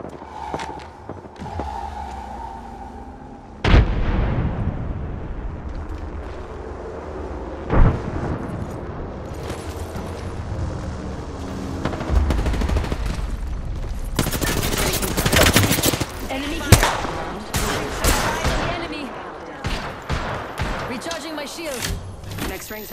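Weapon fire in the PS5 game Apex Legends: loud, heavy bursts of gunshots and booming impacts, some rapid and overlapping, with dense explosive thuds crowding the second half of the clip.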